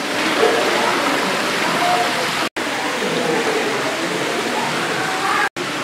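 Steady, loud rush of a waterfall in a botanic garden, a continuous broadband wash of falling water close by, with two very brief dropouts.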